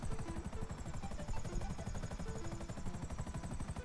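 A helicopter in the video game GTA 5 Online gives a steady, rapid rotor chop with a constant engine whine, loud and continuous throughout.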